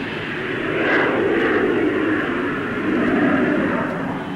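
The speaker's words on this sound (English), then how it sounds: "Coming into land, the nose is lowered." Jet aircraft landing at the 1950s Farnborough air show, nose lowered with parachutes deployed to slow the landing run: a steady, loud broadband engine roar that swells gently and holds throughout, with no talk over it.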